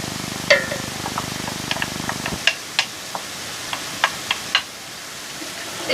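Carrot and celery mix sautéing in a pan for a garden-vegetable bolognese sauce, a soft sizzle that fades after a couple of seconds, leaving scattered light clicks and scrapes of stirring in a quiet kitchen.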